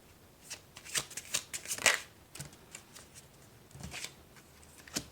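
A deck of tarot cards being shuffled, several quick riffling flutters and soft card slaps in a quiet room, close and fairly faint.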